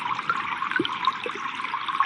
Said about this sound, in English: You can hear also that the sound effect, it has loud, high-pitched stuff, but then there's also this gurgling